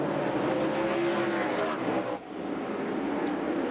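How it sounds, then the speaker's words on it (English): NASCAR race cars roar together at a green flag restart in the 2003 Kroger 200, a steady, dense engine drone from a pack of cars at moderate distance. "Here the cars come. Restart. Flag, green flag, green flag."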